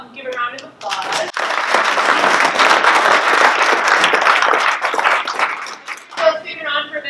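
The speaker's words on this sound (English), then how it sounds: "Let's give a round of applause." Audience applause at the close of an FEI Twin Cities monthly meeting talk. A voice speaks briefly, then a room full of people claps loudly and steadily for several seconds before the clapping fades and talking resumes.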